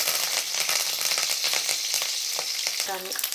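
Green and dried chillies, curry leaves and green peas sizzle in hot oil, a dense, close crackle with irregular pops and stirring, steady throughout, with a short tonal clink near the end and no talk.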